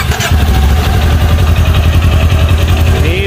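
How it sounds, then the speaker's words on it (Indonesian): A Kawasaki Ninja 250 motorcycle engine idles loudly and close by, a steady rapid putter that never lets up, with no one talking. "Ini bagian suara mesin ini bro."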